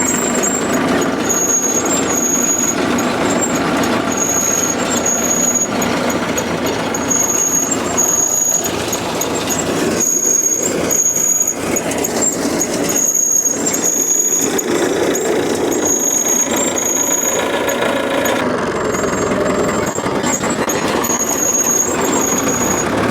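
Allis-Chalmers All-Crop 72 harvester with its PTO shaft engaged, running at close range as a steady loud mechanical drone with a high whine and squeal on top, with no talk.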